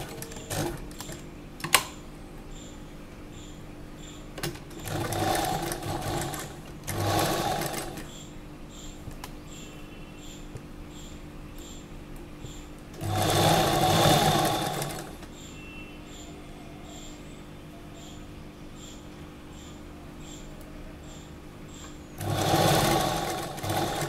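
A sewing machine stitches an Anarkali dress in several short, separate bursts of buzzing, with quiet handling and pauses between runs as the fabric is turned at the corners.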